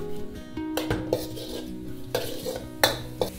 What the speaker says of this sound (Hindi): हाई हीट में सॉटे कर देंगे इनको।